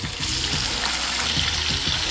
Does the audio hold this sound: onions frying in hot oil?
yes